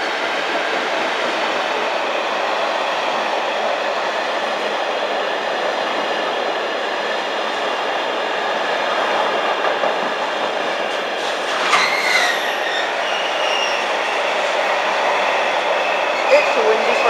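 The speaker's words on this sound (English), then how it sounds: "It's a windy freight train, no surprise there, even though it's not really windy." A freight train hauled by class 66 locomotive 66538 passes through Lincoln Central station with a steady, loud rolling roar, a brief wheel squeal partway through, and faint talk in the background.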